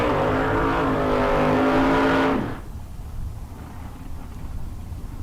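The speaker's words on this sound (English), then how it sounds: "Don Toya did not like that attempt at a burnout." A drag race car at a bracket race, Don Toya's Roadster, holds a loud, steady engine roar through a burnout attempt, then cuts off abruptly and fades to a low rumble.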